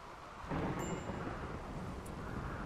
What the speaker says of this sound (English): Hey, he didn't get hit by lightning.